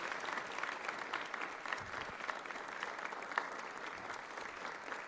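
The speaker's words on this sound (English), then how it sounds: "Can we please give her a round of applause as she's making her way to the front" Applause from an audience at a learner-leadership summit, steady and moderately distant, a dense patter of many clapping hands sustained throughout without a break.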